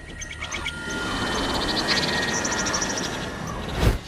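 Forest animals relaying alarm calls, with repeated short chirps and tweets overlapping across a dense, steady ambience, some calls near and others far, and one louder sharp burst near the end.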